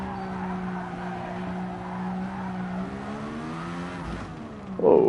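Race car in Gran Turismo Sport at Interlagos: a steady engine drone with a sustained tyre squeal as the car slides, the pitch dropping before a sharp scuffing burst at the end.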